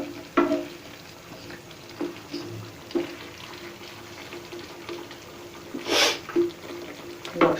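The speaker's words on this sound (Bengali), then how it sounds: "এবার আমি একটু নেড়ে দিচ্ছি যাতে চিনিটা সব জায়গায় সমানভাবে ছড়িয়ে যায়।" Sugar stirred into taro cooking in a pan on medium heat, an irregular run of soft spoon scrapes and knocks over a faint sizzle, with a louder stroke near the end, close and with no speech.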